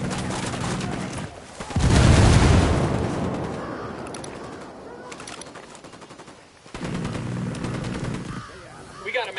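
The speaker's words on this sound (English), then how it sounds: "Shots fired. Unidad's engaging the cartel." Automatic gunfire in Ghost Recon Wildlands rattles out in two sustained bursts, the first loud and heavy, the second following after a short lull, with game voice chatter around them.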